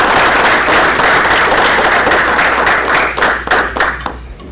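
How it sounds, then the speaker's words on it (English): A room full of Rotary club members applauds at a meeting, a dense steady round of clapping that thins into scattered individual claps before fading out. "Please join me in a round of applause for their service."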